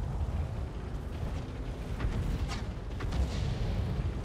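Skoda T25 tank gun shots in World of Tanks, dull distant booms and bursts over a steady rumbling battlefield background, moderately faint with no talking.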